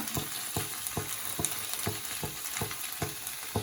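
Paneer manchurian fries in a pan and is stirred in a quick, regular rhythm, each scrape or tap landing over a constant sizzling hiss, close and without any talk.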